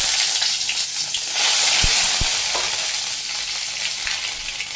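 Green chilies and vegetables land in a hot pan for a Bangladeshi village-style labra curry, with steady loud sizzling throughout, two sharp clanks as they go in and a brief surge of frying hiss.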